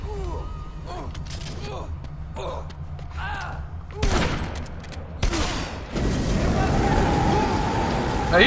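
Shotgun blasts ring out in the zombie action game Dead Rising 3, a couple of loud booming shots at about four and five seconds, followed by a sustained rumble of gunfire and chaos, with someone talking over the game audio.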